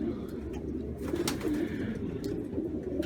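Pigeons kept by a breeder, healthy and well cared for, coo in a steady low murmur that runs continuously throughout at moderate, slightly distant level.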